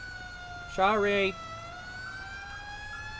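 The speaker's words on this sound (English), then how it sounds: "That is an annoying siren" A video game ambulance siren gives a short, loud wailing burst over steady high electronic tones and background hum, followed by a brief spoken word.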